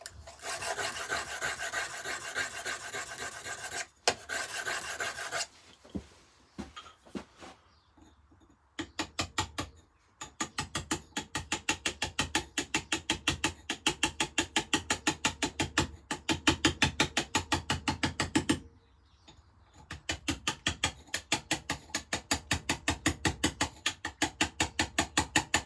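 Stone-carving chisel being sharpened during a live carving session, heard as loud, steady rasping strokes repeated in fast rhythm, with short pauses between bursts of grinding against the abrasive.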